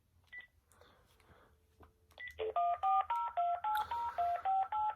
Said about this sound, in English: now we're going to give Marcus a dial here so we can get him on here